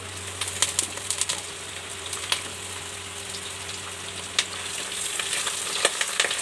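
Raw green banana pieces frying in a pan of oil alongside potatoes, a steady close sizzle punctuated by sharp spatters and stirring clicks, without speech.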